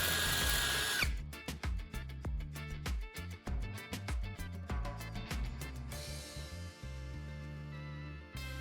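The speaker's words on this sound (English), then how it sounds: "And now, I'm drilling through the marked center of the spoon's bowl." A power drill bores through the bowl of a spoon held in a vise, loud and near, with repeated bursts of drilling and short pauses before a sustained run.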